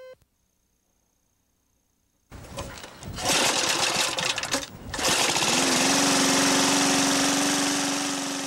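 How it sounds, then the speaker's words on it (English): A lawnmower engine starts up and runs loudly and steadily nearby, its motor droning and rattling continuously after a quiet opening, with a rising whine as it settles into speed. "Marty Engelmeyer can only start up his lawnmower."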